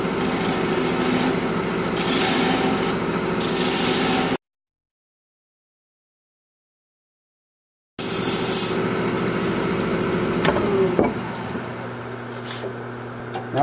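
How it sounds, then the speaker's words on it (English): A wood lathe spins at 1500 RPM while a half-inch bowl gouge cuts a bowl, giving a steady scraping, rasping tone over a low heater hum, interrupted by a gap of silence. "We're turning at 1500 RPM with a half inch bowl gouge."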